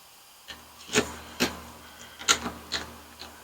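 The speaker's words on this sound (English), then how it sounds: "So I'm going to put some clamps on this, get it clamped down." Clamps being tightened to hold a backdrop board down on a workbench, heard as a quiet handful of short rubbing, wooden clicks and rasps spaced irregularly across a faint room background, with no talking.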